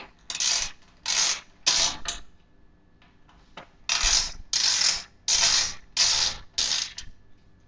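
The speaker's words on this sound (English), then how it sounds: "now we're going to remove these screws that hold the drive cage in. Set my screwdriver to ratchet properly." A ratchet screwdriver backs out small screws holding a computer drive cage, producing repeated bursts of rapid clicking ratchet strokes with short pauses between them, close and clear with no talk.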